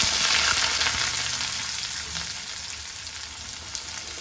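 Onion frying in hot oil with popped mustard seeds, a loud steady sizzle with a bright hiss that stays close and continuous, without any talking.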